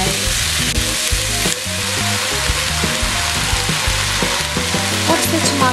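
Chopped tomatoes sizzle and are stirred through a pan of lasagne sauce, a loud steady frying hiss mixed with prominent background music.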